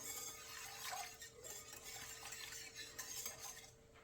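Someone stirs water and yeast in a bowl with a utensil, producing soft, continuous close scraping and swishing with faint clinks against the bowl, fairly quiet and without talk.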